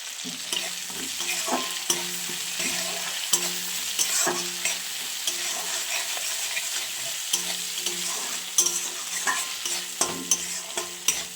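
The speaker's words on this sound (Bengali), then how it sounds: "ভালো করে মশলাটা কষা হয়ে গেলে" A spice masala with salt being stirred while it fries in a pan: a steady soft sizzle runs under repeated scraping and clinking of the spoon, heard close up without speech.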